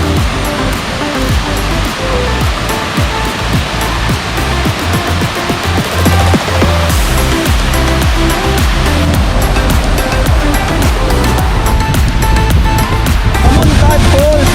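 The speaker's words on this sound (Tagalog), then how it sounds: "Kamuntad Falls ng Bohol! Ganda! Kita natin yung falls!" Kamuntad Falls, a waterfall in Bohol, gives a loud, continuous rushing roar of falling water that fills the whole scene, with voices faintly mixed in.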